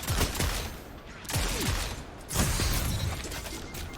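Rapid gunfire bursts in a shooter video game, several sharp volleys and crackling shots in quick succession, close and fairly loud, with short pauses between bursts.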